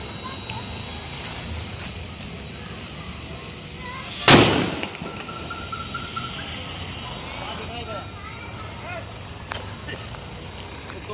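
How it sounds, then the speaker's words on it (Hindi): A Ravan bomb Diwali firecracker goes off outdoors in one sharp, very loud blast about midway, and a brief rumbling decay follows. People talk before and after the bang. "देखा यारो आपने कितनी तेज फटाई रावण बम।"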